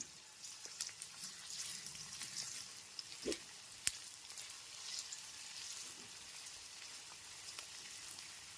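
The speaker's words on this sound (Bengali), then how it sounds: "পেঁয়াজ কুচিগুলোকে লাল করে ভেজে নেব" Chopped onions fry over a medium flame, giving a faint, even crackling sizzle with occasional small pops.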